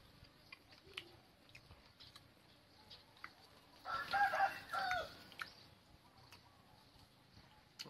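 A chicken clucks and calls near an outdoor home kitchen where eel is being cooked, a busy burst of fowl sounds around the middle standing out over quiet background noise.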